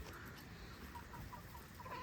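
Soft, scattered clucking of young Bielefelder chickens carries through a steady low background, with no voices, continuous across the short stretch.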